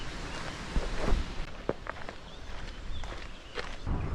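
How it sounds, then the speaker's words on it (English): Footsteps crunch along an outdoor path near a river by a village, a few irregular close steps over quiet background with faint rustling. "Just walking back to the village"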